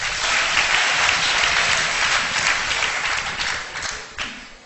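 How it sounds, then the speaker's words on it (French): Dense, sustained applause from a classroom audience fills the moment, loud and even before tapering off slightly at the end, with no talk over it. "Applaudissez."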